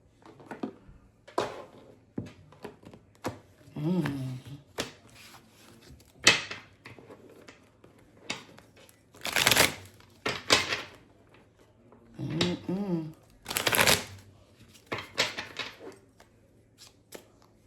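Tarot message cards are shuffled in bursts of riffling and snapping, several separate shuffles with short pauses and soft handling noises between them, close and clear with no talking.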